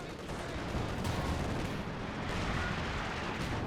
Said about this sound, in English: The artillery's just constantly smacking them